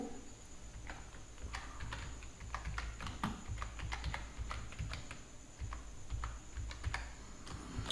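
Typing an address into an online college admission form on a computer keyboard: steady, quick key clicks with irregular louder taps, close and fairly quiet, with no voices.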